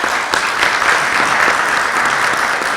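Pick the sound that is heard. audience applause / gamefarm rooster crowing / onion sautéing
audience applause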